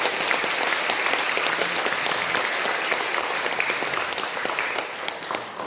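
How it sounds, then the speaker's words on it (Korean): A church congregation applauds in a long, steady burst of dense clapping that fills the room, welcoming two members who have returned to Sunday worship after a long absence. "우리 큰 박수로 환영하도록 하겠습니다"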